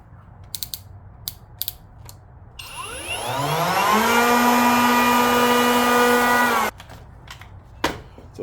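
A Kobalt 24V cordless planer spins up with a rising whine, runs steadily for a few seconds with a slight vibration and a mechanical rattle, then shuts off; preceded and followed by small clicks and handling noises.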